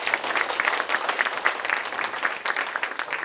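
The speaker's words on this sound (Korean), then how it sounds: "여러분 박수로 한번 나눕니다." An audience at a lecture applauds, with many hands clapping in a dense, steady patter at close range that holds at an even level for a few seconds.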